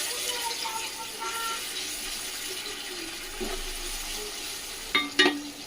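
Ginger garlic paste fries in oil in a pan for a fish curry, a steady soft sizzle with a couple of brief stirring scrapes near the end.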